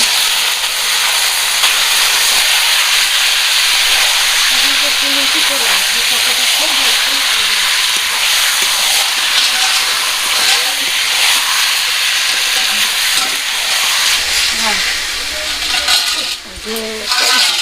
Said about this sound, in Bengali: এবার আমি এই চিকেনটা দিয়ে ভালো করে আবারও কষে নেব।